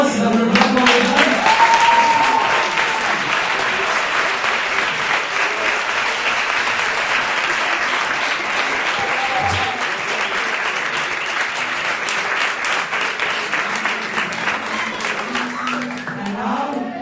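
Sustained, loud applause fills a startup event room after final presentations, dense clapping running steadily from start to finish with faint voices and cheers mixed in.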